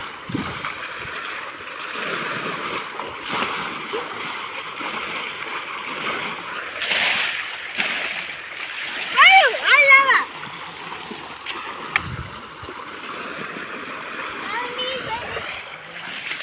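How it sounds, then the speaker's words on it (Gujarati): Water splashes and sloshes repeatedly as a child plays, with a voice and adult speech over steady background water noise. "નહીં એ પાણી ના ઉડાડ, ફોન ભીનો થઈ જાય."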